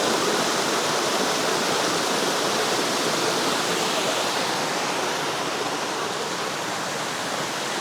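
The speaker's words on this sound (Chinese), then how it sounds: "每一处瀑布都有它独特的景色。" Steady, loud rush of a waterfall along a mountain hiking trail in Hunan, a dense broadband roar that holds constant throughout with no voices.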